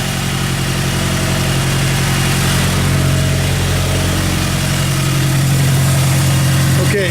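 A supercharged Toyota 86 idles steadily nearby, a loud, even low engine hum with constant vibration that holds without change.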